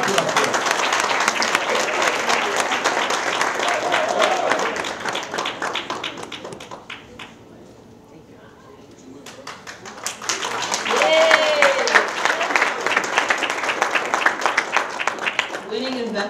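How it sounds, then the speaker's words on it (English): An audience applauds at a summer jobs program awards ceremony: dense, sustained clapping fills the room, dies down briefly, then swells again with cheering and voices mixed in. "Clap it up for him."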